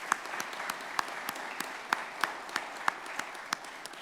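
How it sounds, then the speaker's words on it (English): A church congregation gives a short round of applause, sparse claps spread at an even pace and fairly faint. "I would like you to give him a round of applause"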